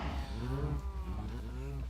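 Minecraft cows in a herd moo in long, low, drawn-out calls that overlap over about two seconds against steady background sound.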